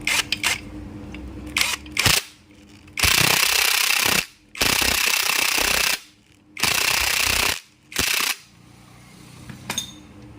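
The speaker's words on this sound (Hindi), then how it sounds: "ये क्रैंक बैलेंसर का नट हमने अभी टाइट करना है" Ratchet tightening a 17 mm crank balancer nut on a TVS Apache 200 4V motorcycle, with several loud, close bursts of rapid clicking separated by pauses and faint handling noises.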